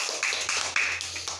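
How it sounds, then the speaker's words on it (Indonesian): A small group claps for a student team during an online teaching practice class, a quick run of close, uneven hand claps over a steady low hum, with no talking. "Tepuk tangan untuk kelompoknya Kakak Grace."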